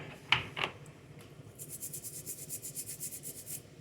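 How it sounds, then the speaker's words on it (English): Scrubbing dirt off hickory nuts, starting with a couple of sharp knocks and then moving into a steady, rhythmic back-and-forth rubbing and scraping at close range. "So we just scrub them out, get all the dirt out really good."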